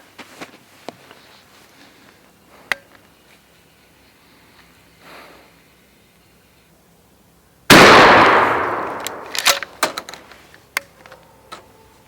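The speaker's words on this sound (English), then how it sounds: "here we go with our second shot after our first adjustment" A single sharp gunshot while sighting in a gun fitted with glow sights, a sudden loud crack with a decaying outdoor echo, preceded by quiet handling clicks and followed by a few small knocks.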